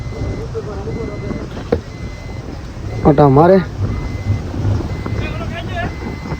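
Blustery wind buffets the microphone in a steady roar on the open deck of a ro-ro ferry at sea, with people talking over it and a brief rising call midway.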